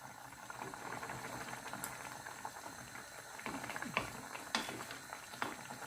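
Chicken Bicol Express simmers in a pot in a home kitchen, giving a soft, continuous bubbling with scattered small pops and splutters, fairly quiet and with no talk.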